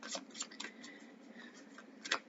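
Soft, rapid riffling and slapping of tarot cards being shuffled, several quick bursts close by with a sharper snap near the end.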